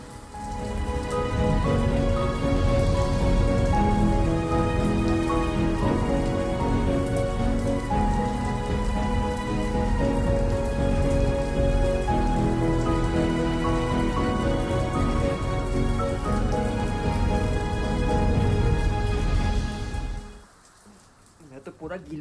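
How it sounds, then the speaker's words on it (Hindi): Steady rain falls outside a house, a dense continuous wash of drops that holds evenly throughout and then cuts off near the end, with a voice present alongside it. "बाहर तो बारिश हो रही है।"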